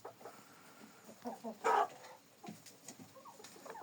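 Chickens cluck softly in a coop with ducks nearby, scattered low calls and one louder squawk standing out over a quiet, faintly noisy background.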